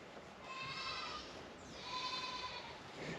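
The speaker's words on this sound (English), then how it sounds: "He's going for Dolly the sheep" A sheep bleats twice on a farm, each call a drawn-out wavering cry, moderately distant over a soft outdoor background.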